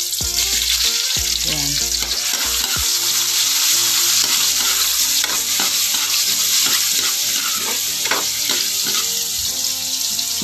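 Onion frying and browning in a pan for homemade spaghetti, with a steady loud sizzle and bursts of stirring and clattering throughout, and a brief voice over the top.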